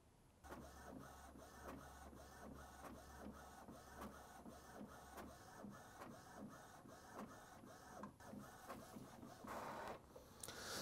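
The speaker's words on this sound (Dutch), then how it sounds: "En dan gaat hij hem nu draadloos naar de printer toesturen." An Epson Expression Home XP-205 inkjet printer printing, with a steady rhythmic series of mechanical clacks and whirring as the print head shuttles, a low motor hum early on and a louder paper-feed rush near the end.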